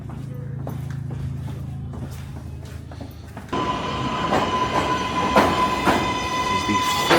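A New York subway 4 train pulls into Bowling Green station, first a low rumble, then a sudden loud roar of wheels with screeching squeals and rhythmic clacks as it nears.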